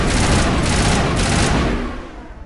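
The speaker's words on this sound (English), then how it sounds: "I'm shooting like a madman" Dense gunfire from shooting in a PS4 video game, a loud sustained burst of rapid shots rolling together for about two seconds before tapering off, with no talk over it.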